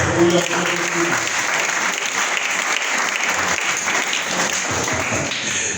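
A church congregation applauds in steady, dense clapping that fills the room throughout, with voices mixed into the crowd noise.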